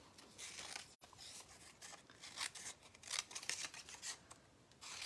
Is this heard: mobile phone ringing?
no